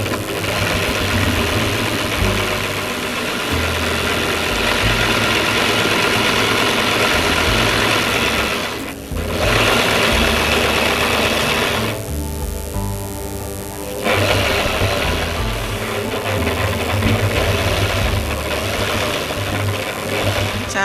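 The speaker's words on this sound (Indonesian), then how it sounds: "Setelah itu dijahit lurus." A sewing machine runs steadily as a straight seam is stitched on fabric, with a continuous close mechanical hum and rattle and a brief pause near the middle before the stitching resumes.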